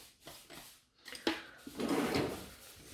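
A drawer sliding open or shut to store a gel nail brush, a few soft knocks and a rattling slide close by, with no talking.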